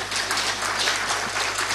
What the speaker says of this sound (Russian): Я думаю, это заслуженные аплодисменты.